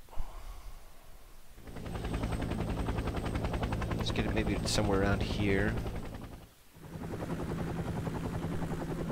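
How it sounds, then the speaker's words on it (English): Helicopter in Squad Battles Soviet-Afghan War, a loud, steady rotor thrum that swells in, holds for several seconds and briefly cuts out before resuming, with someone talking over it. "Let's get the next chopper in."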